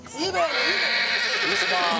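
A horse kept alongside bronze work in Ouagadougou, Burkina Faso, whinnies and neighs continuously under dense, close-by voices and chatter in a busy outdoor setting.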